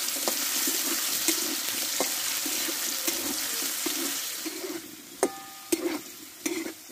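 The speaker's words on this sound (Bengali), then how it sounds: "আলুটা একটু টাইম নিয়ে কষে নেব" Potato pieces seasoned with salt and turmeric fry in a pan with a steady sizzle and soft stirring, then a few sharp metallic clinks of a utensil near the end.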